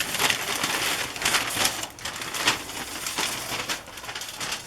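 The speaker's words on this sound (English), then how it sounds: "Try not to make too much noise with this brown paper." Brown paper being handled while unpacking mail, with a steady close crinkling and rustling broken by a few sharper crackles, no voices.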